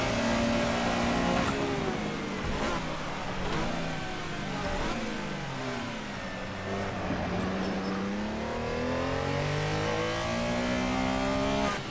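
A race car engine revs continuously in the Assetto Corsa racing game, rising and falling in pitch through shifts and throttle changes, loud and steady for the whole stretch with faint tyre noise.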